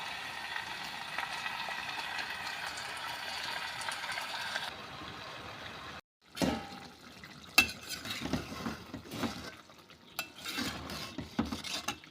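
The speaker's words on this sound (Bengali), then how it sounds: "আগে লাল করে ভেজে তুলে নিচ্ছি" Sliced onions frying in oil until browned, a steady sizzle for several seconds, then quieter stirring with scraping and clinks of a spatula against the pan, close up.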